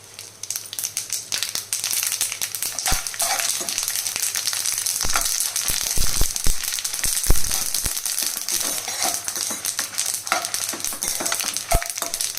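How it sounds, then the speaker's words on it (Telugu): Dried red chillies and sesame seeds fry in hot oil in a pan, giving a steady loud sizzle with scattered crackles and stirring scrapes. "ఎండుమిర్చి కొంచెం వేగిన తర్వాత ఈ నువ్వులు వేసేసుకోవాలి"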